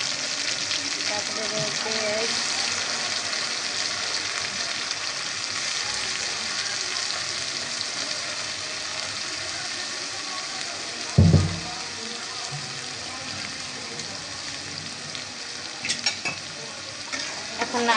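Ingredients dropped into hot oil fry with a loud, continuous sizzle while being stirred, a brief knock of a utensil midway and a few words spoken over it.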